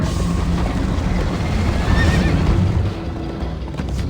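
Horse in Minecraft: Story Mode neighs and gallops amid a loud, rumbling chase, hooves pounding continuously beneath a rising whinny, with game action noise layered over everything.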